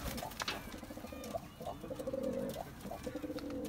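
Pigeons in a loft give soft, repeated rolling coos close by, overlapping one another against a low background murmur.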